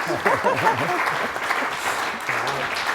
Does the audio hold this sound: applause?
yes